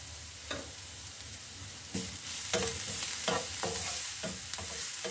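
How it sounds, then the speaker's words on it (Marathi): Onion cooking slowly in a pan over low heat, a steady soft sizzle with occasional scraping stirs that grow slightly louder toward the end, no voices. "आणि हा मंद आचेवर कांदा शिजून घेतो"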